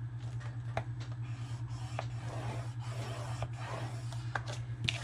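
Paper scored on a scoring board, a soft, faint scraping and sliding with a few sharp ticks of the tool spaced through the clip over a steady low hum.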